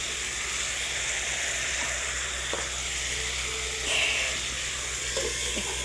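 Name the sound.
potatoes cooking in water with masala in a pan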